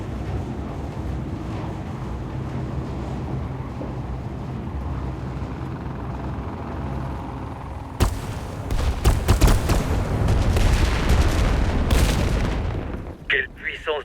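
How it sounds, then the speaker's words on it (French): A heavy cannon in the shooter game Warface, aimed at enemy troops evacuating an island by helicopter. A low rumbling backdrop gives way to a loud run of booming shots that ends with a sharp final blast. "Voyons un peu ce que ce canon a dans le ventre."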